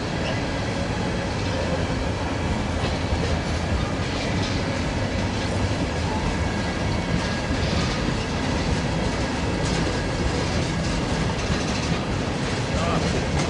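A freight train passes at Daggett, a steady, loud rumble of rolling wagons with a rhythmic clatter of wheels over the rails, continuous throughout.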